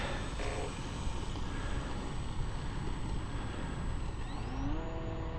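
Small Apprentice model airplane taxiing on the ground in strong wind, a steady electric motor whine under heavy wind rumble, rising in pitch near the end.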